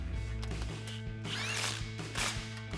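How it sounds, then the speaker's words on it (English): Ratcheting and mechanical clicks come from a 15mm socket snugging an exhaust clamp on the front pipe of a Ford F-150 during a Borla ATAK dual exhaust install, with short metallic bursts over a steady low hum. "Now we can go ahead and snug up our clamp using a 15mm socket."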